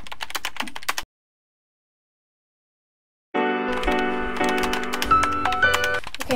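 Quick clattering keystrokes on a computer keyboard during Roblox play break off into total silence, then resume as dense clicking over steady tonal game music.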